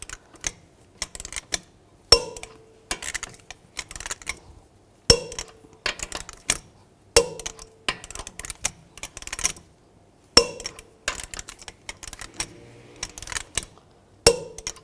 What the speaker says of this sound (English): Now I'm going to torque the lug nuts to 140 foot-pounds in a cross pattern to tighten the wheel down